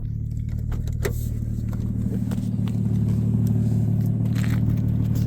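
A 1999 Nissan Skyline R34 GTT with a 2.5-litre single-turbo engine idles outside, a steady, loud, low drone with faint clicks and ticks over it and no one speaking.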